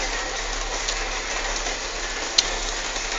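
A steady hiss of simulated rain from a 3D show effect aboard a Hong Kong double-decker bus, an even wash of sound with a low rumble beneath and a brief tick near the end, with no talking.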